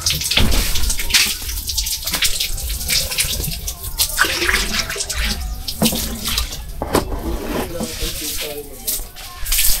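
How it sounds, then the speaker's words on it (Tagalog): Water runs steadily from a tap into a filling container, a continuous close splashing rush lasting throughout with small shifts in texture. "Puno ng tubig, puno na."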